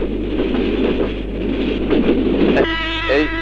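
A long train rumbles past close by with a steady, heavy roar, and a horn-like tonal blast sounds near the end.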